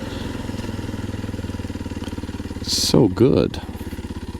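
A Kawasaki KLX230 motorcycle idles with an even, pulsing thump throughout, and someone briefly speaks over it.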